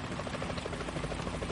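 A helicopter from the video game Metal Gear Solid 2 thrums with a steady rotor chop, loud and close, and no one speaks over it.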